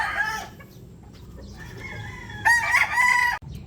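A rooster crows close by in two bursts, the second louder and longer, while hens cluck softly in the background of a quiet farmyard.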